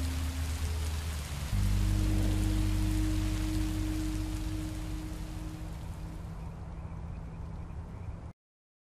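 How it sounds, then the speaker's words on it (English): Steady rain falling in the video game Minecraft: Story Mode, a dense, even hiss of drops on surfaces with a low background hum, continuing for several seconds before cutting off abruptly. "Rain is better than monsters."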